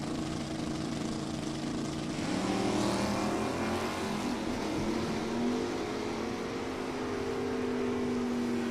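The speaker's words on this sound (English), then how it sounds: "the SS396, even though it's the low horsepower version, certainly going to outrun the Oldsmobile down to the finish line stripe" Stock Eliminator drag race between a low-horsepower Chevrolet SS396 and an Oldsmobile, engines roaring loud and steady as the cars launch, pitch sweeping upward through the gears with no talk over it.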